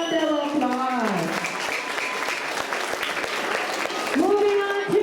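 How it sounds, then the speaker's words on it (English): A round of applause fills an elementary school assembly hall, a dense and steady clapping of many hands. Children's voices cry out over it at the start and again near the end. "let's give them another round of applause"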